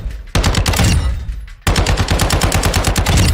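Loud, rapid automatic gunfire echoes across a video game firing range in two sustained bursts separated by a brief pause, each volley a dense stream of close, sharp shots.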